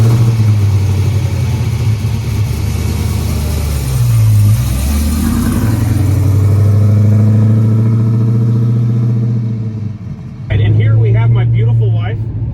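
A supercharged Chevy Nova engine runs loud and close, rumbling steadily with a couple of rising revs before settling; a voice speaks briefly near the end over the engine.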